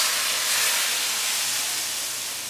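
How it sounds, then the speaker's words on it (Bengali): Mustard seed tempering poured into cooked vegetables for besor, giving a steady broad sizzling hiss that fades slightly toward the end. "সর্ষেটা ফাটলেই ফ্লেমটা অফ করে এই তড়কাটা সবজির মধ্যে ঢেলে দেব।"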